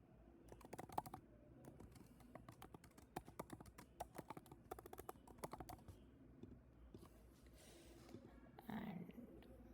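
Rapid clicking of a computer keyboard while entering a heading into a WhatsApp flow form, with irregular bursts of close keystrokes and brief pauses, no talking.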